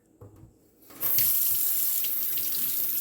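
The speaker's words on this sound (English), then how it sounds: "I'm going to get a bucket, fill it up with hot water." Hot water gushes loudly and steadily from a tap into a bucket for kitchen cleaning, starting abruptly after a second of quieter clatter and running continuously to the end.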